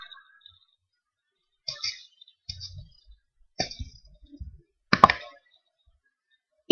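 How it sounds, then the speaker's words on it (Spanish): Computer mouse clicks on a desktop running a MySQL visual interface, a handful of sharp isolated clicks spaced across near silence, close and clear. "Damos clic en continuar."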